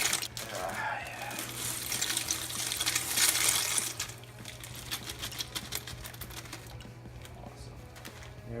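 Pasta being stirred into a pot of water in a home kitchen: close, continuous watery swishing and sloshing with small clinks, louder in the first half and then settling to a softer churn.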